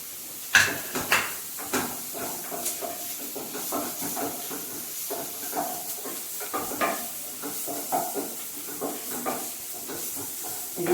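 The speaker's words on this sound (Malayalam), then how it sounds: "സവാള നമ്മളിങ്ങനെ നന്നായിട്ട് വഴറ്റ്." Onion, green chilli and ginger sautéing in a pan for masala dosa: soft hiss and sizzle under repeated scrapes and stirring taps of a spatula, close and moderate, with no talk.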